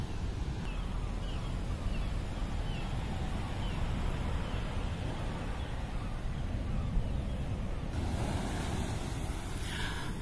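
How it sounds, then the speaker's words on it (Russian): Ocean surf breaking on a stormy winter shore beside an English seaside promenade, a steady loud roar of waves mixed with wind buffeting the microphone, with a brighter surge of spray near the end. "слушать шум прибоя"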